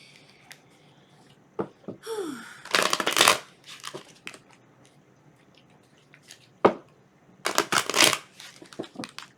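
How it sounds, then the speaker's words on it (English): Bursts of tarot cards being shuffled, several riffles separated by pauses, close and fairly loud with scattered taps and rustles between them. "I'm going to shuffle the cards 3 times in a row"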